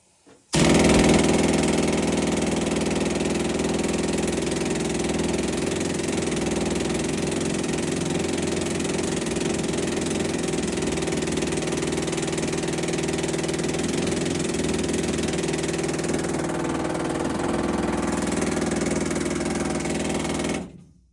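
A heavy mining machine engine at the World Museum of Mining in Butte, Montana starts up and runs with a steady, loud mechanical clatter for about twenty seconds, then cuts off abruptly.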